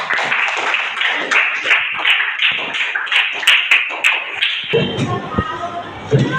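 Children clap their hands together in a classroom, a series of sharp, uneven claps and taps close by, with young voices chattering among them. Toward the end the clapping thins out into scattered hits and a low thump.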